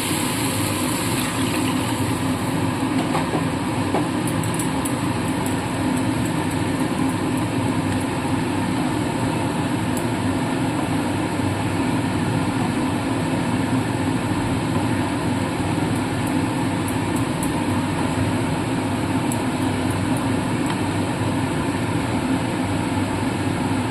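Water hits spice paste frying in hot oil for a vegetarian shahi paneer, giving a loud, dense, unbroken hiss that holds steady the whole time with no talking.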